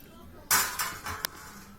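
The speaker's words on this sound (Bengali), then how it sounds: "দেখ নাড়াচাড়া করে দিচ্ছি" Dal curry stirred in a metal cooking pot: a few sharp clanks and scrapes of a utensil against the pot in quick succession, close by, then quiet.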